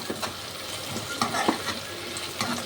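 Onion and curry leaves frying in oil, a bright crackling sizzle with intermittent stirring scrapes and clinks of a spatula, moderately close and no one speaking.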